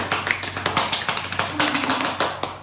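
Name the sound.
applause, clapping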